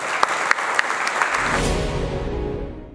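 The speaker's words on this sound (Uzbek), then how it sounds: "Guldiroz qarsaklar bilan bugungi tanlovimizning viloyat bosqichiga start beramiz." Loud applause from an audience opens a regional round of a school competition, a broad dense wash of clapping that swells and then slowly fades toward the end.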